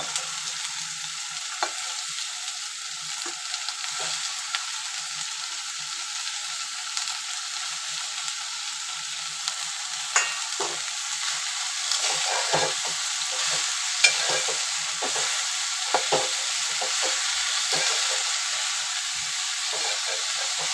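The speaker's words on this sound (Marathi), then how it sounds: "चांगलं परतून घ्यायचं कोबी" Cabbage with tomato is stir-fried in a pan, giving a steady soft sizzle and hiss broken by scattered scraping clicks from stirring, going on throughout at moderate loudness.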